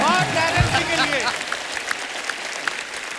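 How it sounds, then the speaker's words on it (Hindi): Enthusiastic studio audience applause greets the judges on a Hindi TV comedy show, a dense clapping wash with a few sharp claps over a short spoken line at the start. "जोरदार तालियां"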